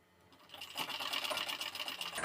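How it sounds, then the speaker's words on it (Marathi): A sewing machine stitches the neckline of a blouse, running in a fast, steady mechanical chatter close by after a quiet start, then stopping abruptly at the end. "तर आता आपण गळ्याला शिलाई देऊन घेऊया"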